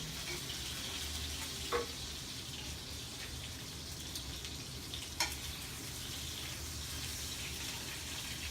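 Duck breast (magret de canard) searing in a hot pan, a steady soft sizzle and crackle of fat throughout, with a couple of brief louder spits and pops.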